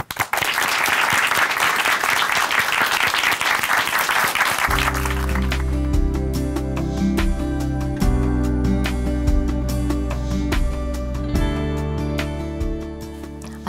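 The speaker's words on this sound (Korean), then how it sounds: "박수로 모시겠습니다" A church congregation at Chuncheon Hanmaeum Church welcomes someone speaker with several seconds of dense, loud clapping, which fades as sustained organ or keyboard music with steady tones takes over and carries on to the end.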